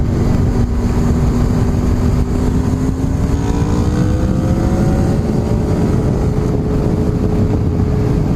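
A motorcycle ridden on the road, its engine droning steadily with rising and falling pitch through gear changes under heavy wind rush, loud and close throughout.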